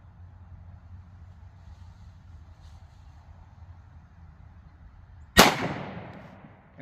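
A single loud, sharp gunshot from a Smith & Wesson M&P .40 S&W pistol firing Underwood 155gr XTP ammunition cracks out over a low background rumble, then rings and decays outdoors.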